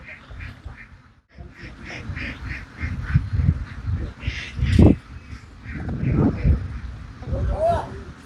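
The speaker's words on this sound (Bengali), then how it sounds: "শুধু হাঁস আর হাঁস।" Ducks quacking on a free-ranging duck farm, a steady chorus of nasal calls mixed with nearby voices talking over them.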